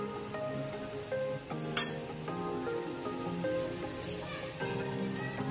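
A spoon clinks against a container while spices are mixed into a mixed vegetable pickle, with scattered light clinks, one sharper knock and a soft, steady background.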